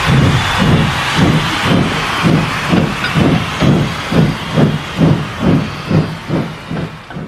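A steam locomotive pulls away, hissing heavily as rhythmic chuffs start and grow more distinct and evenly spaced, loud and close, with no voices over it.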